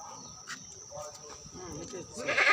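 Crossbred Totapuri Haryana goats on a small farm bleat a few times under nearby talking, the calls fairly faint and growing louder toward the end.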